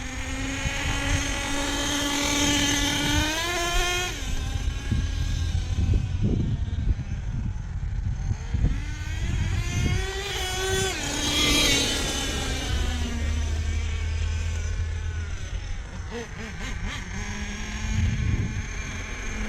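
Savage XL RC truck with a Force .32 nitro engine, 19-tooth clutch bell and 47-tooth composite spur gear, running loud and close with a steady high buzzing drone that rises and falls as the throttle changes, humming like a turbo.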